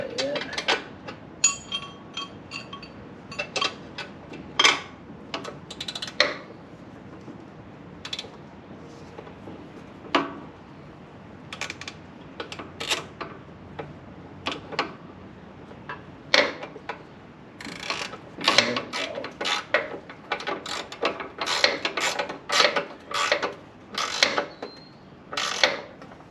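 A bolt on a mini skid steer is tightened by hand, giving repeated ratcheting clicks and metallic clanks in irregular bursts. The sounds are close and fairly sharp over a quiet background.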